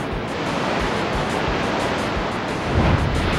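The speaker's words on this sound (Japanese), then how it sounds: "ここで波乗りだ。" Surf water-wave attack in the Pokémon Stadium 2 video game, a loud, steady rushing wash of crashing water that swells slightly toward the end, heard alone without commentary.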